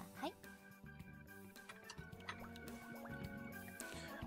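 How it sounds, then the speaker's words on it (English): Green fluid bubbling in a beaker as a visual novel sound effect, a steady wet gurgle with small pops and drips under soft background music, quiet throughout. "It's a beaker filled with green bubbling fluid."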